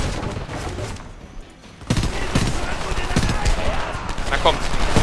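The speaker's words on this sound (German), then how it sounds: "Das heißt, ich kann hier durchs Fenster schießen und muss den Typ auf dem Dach erledigen." Gunfire in the first-person shooter Homefront: dense bursts of automatic weapon fire and sharp shots, loud and close, after a brief quieter lull, with a player's voice talking over parts of it.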